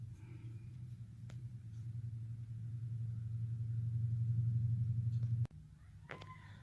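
A 2003 Dodge Grand Caravan engine runs with a low, steady rumbling drone that swells slightly, then cuts off abruptly with a sharp knock near the end, leaving faint background noise.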